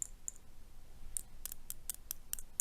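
Sharp, bright metallic clicks and taps from a steel diamond painting pen tip, several in an irregular series, close up and fairly quiet against a faint background hiss.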